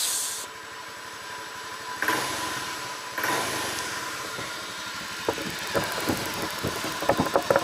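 A car engine started with the starter, with two short surges of noise followed by irregular ticking and knocking pulses over a low running engine, moderately quiet and close.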